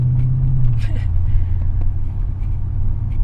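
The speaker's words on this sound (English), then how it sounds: "the sound of this car. I mean, it sounds great. It's just like a thunderous sound." Deep, throaty engine rumble from a Mercedes-Benz CLS55 AMG idling and revving slightly, a steady low growl throughout with no talking.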